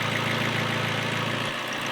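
McLaren 570S engine, carrying a P0021 trouble code, runs at a steady idle as a close, continuous hum with a faint rhythmic pulse and no change over two seconds.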